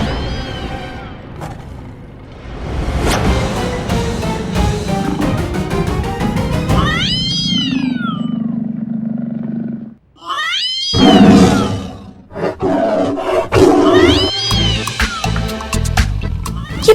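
A phone ringtone imitating a meowing cat sounds loudly amid a busy TV-show soundtrack, with several rising, wailing cat-like cries over layered background sound.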